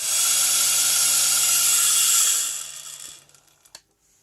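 A homemade Dremel-style rotary tool whines at a high, steady pitch, then winds down and stops, followed by a couple of small clicks and handling taps; close and loud, with no talk.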